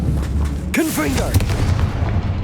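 A booming blast from the Confringo fire spell in Hogwarts Legacy erupts with a deep thump and bright burst, followed by a decaying rumble.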